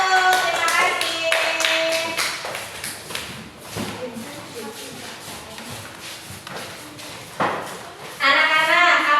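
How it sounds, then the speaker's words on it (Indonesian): Classroom pupils clap for group 1, a scattered burst of hand claps mixed with a teacher's voice and shuffling, with more voices rising near the end. "Tepuk tangan untuk kelompok 1"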